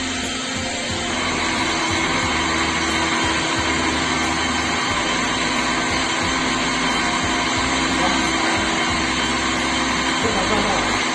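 An electric motor salvaged from a washing machine spins a small post, giving a steady, close mechanical whine and hum throughout, with a person talking over it.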